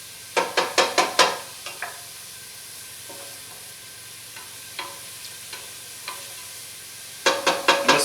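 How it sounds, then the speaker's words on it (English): Onion sweating in a pot for tortilla soup gives a soft, steady sizzle with bursts of stirring clatter at the start and end, and a few light scrapes in between. No one speaks. "we just need to sweat the onion out a little bit."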